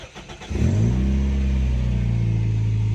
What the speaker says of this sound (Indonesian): Nah, mesin sudah dalam kondisi menyala.